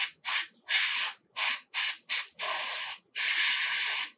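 Vallejo Surface Primer Black is airbrushed onto a Hulkbuster miniature in about eight bursts of hissing spray, short and longer, separated by brief silences, close and clear with no voices.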